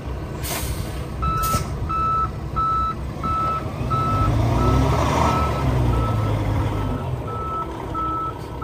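A 2015 Peterbilt 579 truck with about 506,000 miles runs with a steady, close, low diesel rumble, while a reversing alarm beeps at an even pace throughout and a couple of short hissing bursts come near the start.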